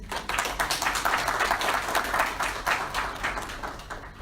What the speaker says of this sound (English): I would like to applause for that, please